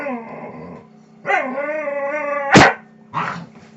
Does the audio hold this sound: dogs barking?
yes